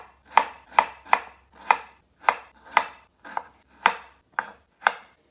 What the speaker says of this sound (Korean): 그런 다음에 감자를 아주 얇게 이렇게 썰어주세요.